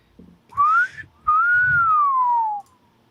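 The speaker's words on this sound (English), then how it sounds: "With that, he whistles, which I cannot do, and heads back out the door" A man whistles two clear rising-and-falling notes as he leaves a room with his puppies: a short call, then a longer sweeping whistle, close and loud, with no talking.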